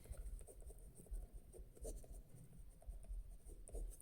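A pen scratches across paper while a class 10 maths word problem is being worked out, making a faint, continuous scribbling that rises and falls in short strokes, close and quiet, with no voices.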